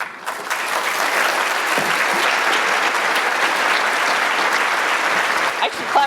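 After a keynote talk at a scientific Python conference, a large audience applauds with steady, dense clapping that holds evenly for several seconds.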